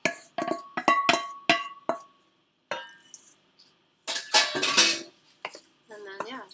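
Scone batter is worked in a bowl with a utensil, producing a series of sharp clinks and scrapes in irregular bursts with short pauses, close by, while a person talks over parts of it.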